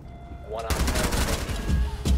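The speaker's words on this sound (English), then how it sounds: "I heard gunfire." Gunfire in the tactical shooter Rainbow Six Siege: a sudden loud burst of rapid automatic shots starts abruptly and keeps rattling, with a final heavy crack near the end.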